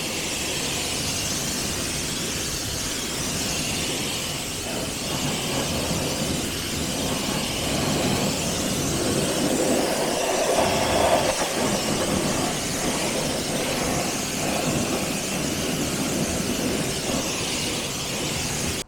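A hose rinses cleaning product off a car, a steady broadband rush of spraying water that runs unbroken and fairly loud throughout, with no voices over it.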